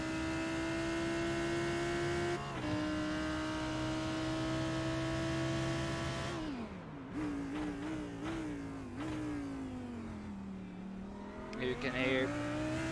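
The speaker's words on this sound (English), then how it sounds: "You can hear Chris is definitely fuel saving" Onboard engine of a race car in a sim racing endurance game at Sebring, fuel saving: a steady high drone that drops away, then stutters and rises again in uneven lifts and surges as throttle is eased on and off.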